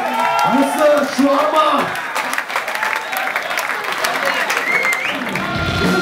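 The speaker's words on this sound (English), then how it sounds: "Give a huge round of applause" Crowd at the Rolling Stone Indian Metal Awards 2013 applauding and cheering loudly, with whoops and shouts over steady clapping and voices calling out through the noise.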